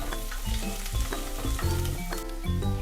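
Paneer and chopped coriander sizzle in hot tadka tempering in a pan for a vegetable dalia pulao, a steady loud crackle and hiss with the clatter of stirring throughout, no talking.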